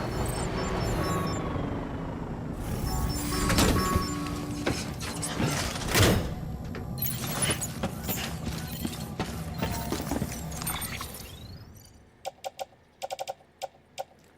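Decontamination machinery in the video game Death Stranding, a loud, dense mechanical clanking and whirring with gear-like rattles and hisses, then a few short clicks as it winds down.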